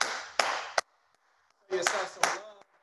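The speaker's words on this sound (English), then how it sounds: "Man, clap it up for yourselves." Participants in a no-weights home HIIT workout clap in two short, sharp bursts separated by a quiet gap, with a voice mixed in over the claps.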